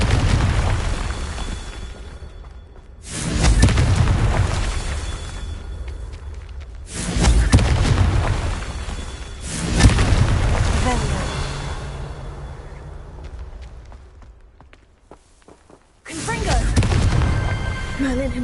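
Confringo blasting spells detonate in Hogwarts Legacy, a series of loud booming explosions arriving in several separate bursts with rumbling decay between them, a voice shouting over parts of the action.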